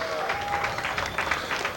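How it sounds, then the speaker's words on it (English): An audience applauds a newborn baby, a short burst of clapping at moderate volume with a faint tonal hum running underneath. "Give our new citizen a special round of applause."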